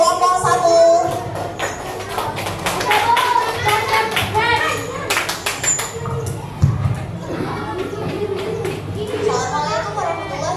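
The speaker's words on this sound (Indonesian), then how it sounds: "Perhatikan tepuk tangan dulu untuk kelompok 1." A classroom of children claps for a group, producing rapid, scattered hand claps and taps in a busy room, mixed with chatter and children's voices throughout.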